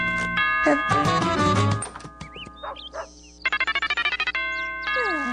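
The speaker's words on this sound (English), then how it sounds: "Your doorbell is lit." Bright cartoonish doorbell chimes from the Ed, Edd n Eddy cartoon ring out amid playful sound effects and music, with a rapid run of repeated tones near the end.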